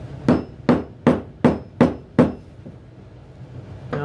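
A mallet strikes a chisel while a mortise is chopped into wood for a patio table: six loud, close, evenly spaced knocks with short ringing decays, then a quiet pause.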